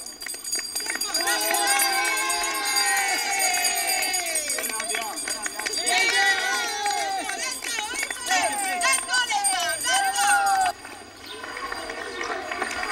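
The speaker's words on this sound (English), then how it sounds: "the crowd was cheering them on in French" Crowd of spectators at a marathon loudly cheering and shouting encouragement to passing runners, continuous dense voices and whoops close by throughout, with a brief dip near the end.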